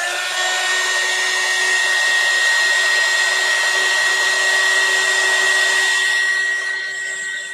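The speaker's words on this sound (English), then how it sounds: "Let's hit it with the heat gun a little bit." A small heat gun blowing on a paper mixed media journal tag with watercolor collage elements, a loud steady airy whoosh held close for several seconds that eases off slightly near the end.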